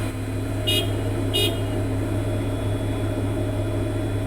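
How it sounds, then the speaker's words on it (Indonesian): Two short horn toots from a piece of heavy construction equipment, sounded in quick succession near the start over a steady low engine idle that continues throughout. "maka kita wajib melakukan start 2 kali, melakukan klakson 2 kali"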